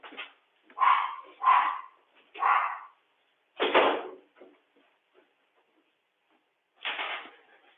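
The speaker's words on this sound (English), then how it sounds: "my dog starts barking right then" A dog barks in short bursts indoors, about six loud woofs spaced irregularly with quiet gaps between, the last coming after a longer pause.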